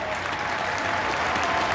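A stadium crowd at an A-League football match between Melbourne Victory and Newcastle Jets applauds a substituted player, Danny Allsop, with a broad, sustained wash of clapping heard at a distance and holding steady throughout.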